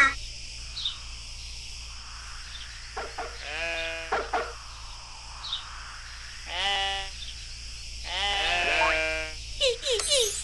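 A sheep in a children's preschool video game bleats several times in short wavering calls, spaced apart over a steady electronic hum and light background tones.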